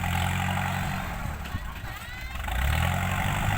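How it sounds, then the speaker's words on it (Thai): A farm tractor's engine drones steadily as it keeps pushing on and working the ground after a dump truck has unloaded soil, a low continuous rumble that dips briefly and swells again, with voices alongside. "เสียเป้งไป รถไถก็ลุยต่อครับ"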